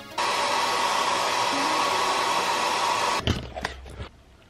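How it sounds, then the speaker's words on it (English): A hairdryer or heat gun warms the adhesive of stone chip protection film on a motorcycle mudguard paintwork, blowing as a steady loud broadband whoosh for about three seconds before cutting off into a few faint handling clicks. "So it says either a hairdryer or a heat gun, obviously, but not too hot"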